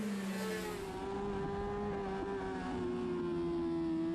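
Road racing motorcycles on a lap at Aberdare Park. A loud, high engine note rises as a bike passes near, then sustains a steady pitch with small shifts in rev.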